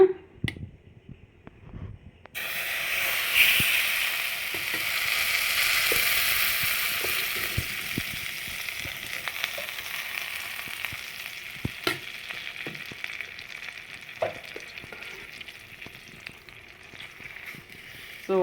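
Butter for desi cow ghee frying in a pan, starting with a sudden hiss and then a steady sizzle with scattered pops and stirring clicks, near and without talk.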